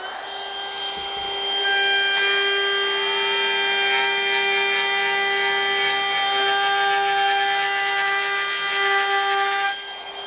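DeWalt cordless router at full speed cutting a 3/8 round-over profile, a steady high-pitched whine with a sharp cutting rasp as the bit bites into the wood, loud and close, running continuously before spinning down at the end.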